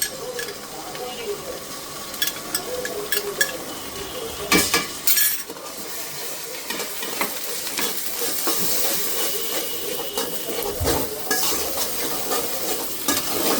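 Ginger and garlic fry and sizzle steadily in a pan for rohu fish curry, with a spoon stirring and clinking against the metal throughout, close and continuous, with a few brief sharper scrapes.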